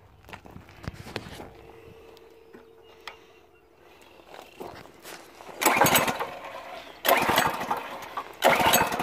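A water pump engine with something caught in its fuel line cranks and sputters in several loud bursts, then stalls into quiet between attempts, with faint rustling and footsteps around it.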